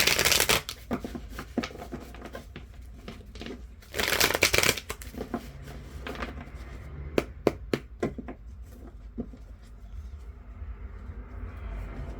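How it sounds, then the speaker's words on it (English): Tarot cards are shuffled up close in quick riffling bursts, followed by a series of sharp taps and snaps as the deck is handled. "Just gonna shuffle quick."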